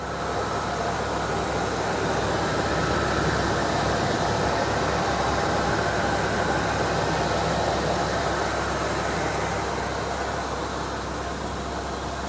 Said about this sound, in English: Super smooth running V10.